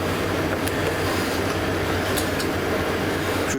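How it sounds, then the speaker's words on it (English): A refrigerator in a converted lorry hums in a steady, even drone after switching on, continuous and fairly loud throughout, with no speech. "Fridge is on again."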